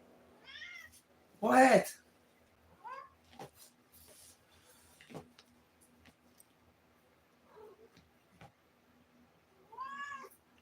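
A house cat meows repeatedly as it comes in, with clear rising calls near the start, again midway, and a final meow at the end, while a person talks to it between the cries.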